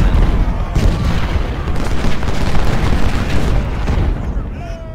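Napoleon cannons fire in rapid volleys during an Ultimate General: Civil War battle at Seven Pines, loud booming blasts layered with dense gunfire and battle noise over a sustained roar.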